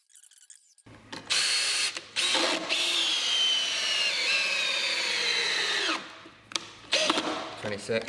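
A cordless Makita-style drill running on a cheap replacement battery drives 12-gauge screws in two long whirring bursts that rise and strain, separated by short pauses and clicks, with brief talk before and after.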